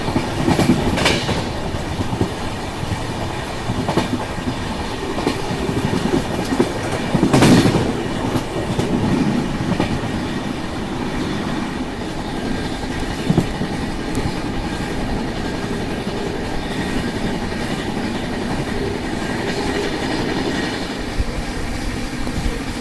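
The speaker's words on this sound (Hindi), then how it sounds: "125 की रफ्तार में लगातार भागते हुए getting chased by grand trunk express" An Indian Railways express runs at about 125 km/h while another express chases it on a parallel line, giving a continuous rumble with rhythmic clickety-clack of wheels over rail joints and a few louder surges.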